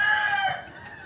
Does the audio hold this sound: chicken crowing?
yes